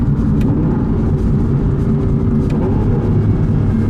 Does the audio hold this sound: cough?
no